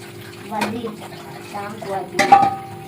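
Plates being washed under running water in a home kitchen, with soft splashing and a few clinks of dishes, louder bursts near the middle and end, and a voice speaking over it.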